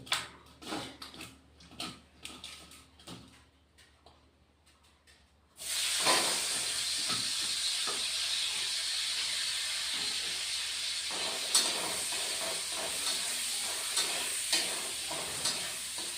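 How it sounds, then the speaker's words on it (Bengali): Dried fish frying in a pan, starting with quiet clatter and stirring, then a loud sudden sizzle that holds steady with hissing and spitting for the rest of the time, no talk. "এখন এই শুটকি মাছটা ভেজে নিই"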